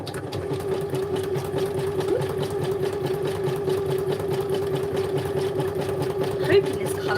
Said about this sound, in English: Right, I'm going to stitch this.